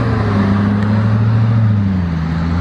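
Lotus Exige 430 Cup engine pulling hard, a loud, steady low drone with rising harmonics, continuous and close throughout with no voices.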